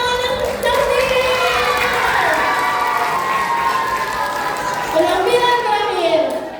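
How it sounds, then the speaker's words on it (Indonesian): A crowd applauds and cheers after a performance at a school Christmas celebration service, the sound loud and steady with children's voices shouting and speaking through the clapping for several seconds. "Tepuk tangan untuk Justin"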